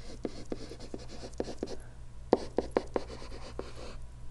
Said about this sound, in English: I'm trying to write so carefully so that you can read it.